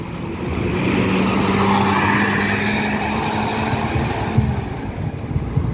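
A bus pulls out of the Bekasi city terminal in Indonesia, its engine a steady, fairly loud drone with a low hum that holds for several seconds, then rough, uneven rumbling as it moves off.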